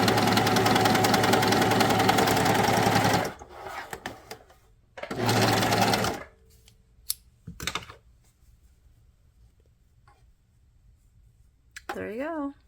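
A Bernette Funlock 48 overlocker runs in loud, fast bursts, first a long stretch of about three seconds, then a shorter one, separated by quiet pauses, with brief clicks and a voice heard near the end.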